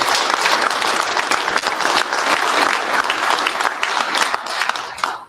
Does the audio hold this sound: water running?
no